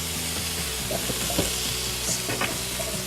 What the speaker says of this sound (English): Give the soup another stir.